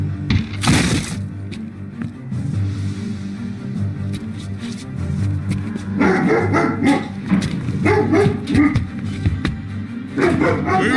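A dog barks several times at close range, loud sharp yaps over a busy fantasy comic scene with a low rumble, a brief crash early on and scattered movement noise.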